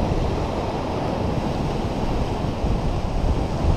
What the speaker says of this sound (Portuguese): Vamos lá pra vocês verem a praia lá.